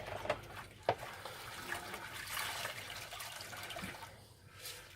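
Hands washed under a running tap in a kitchen while making Scotch eggs, a soft continuous splash of water with a couple of brief knocks, fairly quiet and without talk.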